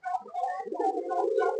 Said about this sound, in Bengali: এখানে রয়েছে বিভিন্ন ধরনের কবুতর,